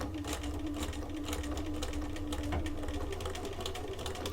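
A sewing machine stitches slowly over the teeth of a zipper while a double zipper pouch is sewn, giving a steady, close, continuous mechanical whir with no talking.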